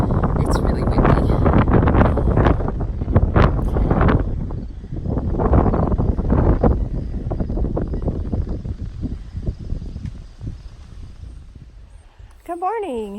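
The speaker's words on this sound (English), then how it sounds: "It's really windy." Strong wind gusts buffet the microphone on a mountain stretch of the Appalachian Trail in New Jersey, roaring in uneven surges and rumbles that swell and ebb throughout, close and loud.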